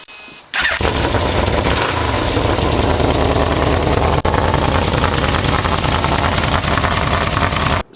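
A 1962 Ford Falcon Ranchero's 200 six with headers and Vmax expansion-chamber mufflers fires up and settles into a loud, steady burbling idle close by.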